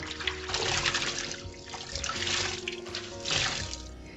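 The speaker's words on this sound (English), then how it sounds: "You squeeze them, but not too much to stretch them, but to be able to at least get the water out." Hand-washed clothes being squeezed by hand, water splashing and trickling out in uneven wet bursts over a soft, continuous background.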